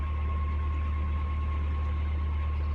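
A canal boat's engine runs steadily to heat water, a loud, continuous low idling drone with a constant hum and no voices.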